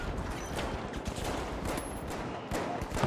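Assault rifle gunfire in the first-person shooter game The Finals rattles in dense rapid bursts throughout, loud and close, with a sharper volley near the end.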